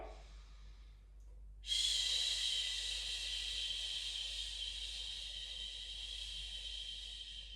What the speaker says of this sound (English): Breathe in. Exhale.